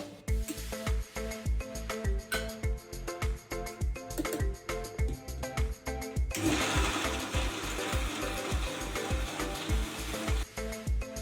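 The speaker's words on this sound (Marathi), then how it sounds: "ते पण मिक्सरमध्ये बारीक करूनच घ्यायचे" A kitchen mixer grinder chops two medium tomatoes in a rapid, regular pulsing whir, close and fairly loud, changing to a smoother continuous grind partway through.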